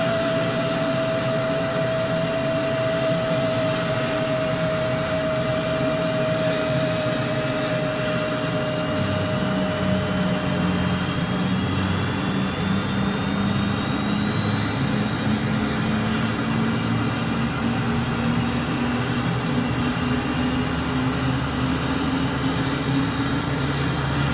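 The right engine of a Rafale fighter jet starts up in a flight simulator game. A steady turbine whine and rushing roar build, while a high tone slides away and a lower tone climbs gradually as the engine spools up.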